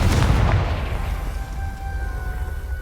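A Confringo spell explosion in Hogwarts Legacy booms loudly at once, then fades into a lingering low rumble with a faint tonal hum.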